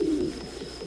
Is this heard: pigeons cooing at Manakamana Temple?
yes